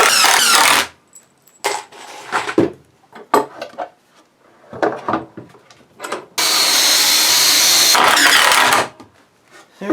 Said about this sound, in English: I also have to countersink these down a little bit further